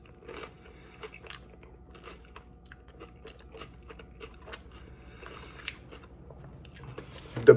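Someone bites and chews a crunchy Taco Bell or Del Taco taco with crispy chips, making faint, scattered crunching and moist chewing sounds close to the mouth, ending in a louder crunch.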